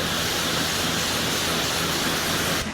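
An AR 635 pressure washer pushing about 3 gallons per minute sprays water across a car, a loud, dense, unbroken hiss that cuts off abruptly at the very end.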